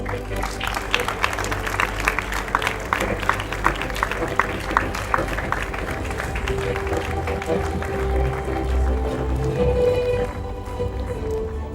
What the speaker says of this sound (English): please give a big round of applause for women's travel team for winning the first place